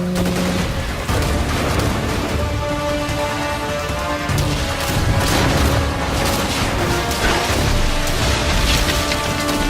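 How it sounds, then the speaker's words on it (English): Heavy ship cannon blasts from Skull and Bones boom amid a loud, continuous din of naval battle, with repeated thuds and crackling impacts. "Its special ability delivers 8 shots in a single blast"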